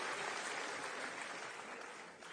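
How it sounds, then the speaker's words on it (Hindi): Faint, thin applause from a crowd at a Delhi public address by the Chief Minister, soft continuous clapping at a distance that tapers slightly toward the end. "तालियां धीमे हैं भाई।"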